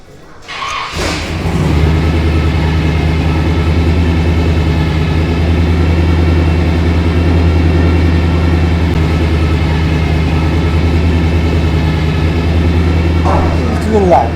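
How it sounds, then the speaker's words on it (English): 1954 Chevy 3100 truck with a straight-piped exhaust and Magnaflow muffler starts up and settles into a deep, steady, loud idle rumble, with people talking over it. "It's got a Magnaflow muffler, but it's not. It's got a cool sound to it."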